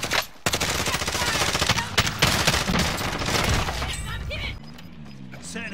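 Dense rapid gunfire in a battle royale shooter game, loud bursts crackling continuously before easing off near the end, with players talking over it.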